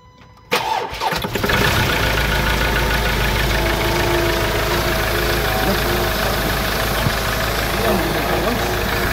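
A 2017 Ford Ranger 2.2 with low power and blowby after an overhaul cranks and catches, then idles loudly and steadily up close with a rough diesel rattle, while people talk nearby.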